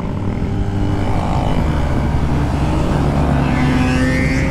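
Motorcycles ride past and overtake during a large group ride in Cologne, making a loud, continuous engine roar with rising and falling tones as bikes pass nearby.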